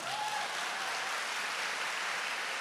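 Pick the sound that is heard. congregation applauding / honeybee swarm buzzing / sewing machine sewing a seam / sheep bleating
congregation applauding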